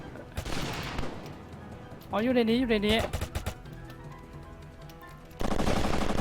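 Bursts of automatic gunfire from a video game shooter, loud rapid strings of shots at the start and end, with a player's voice talking in the middle.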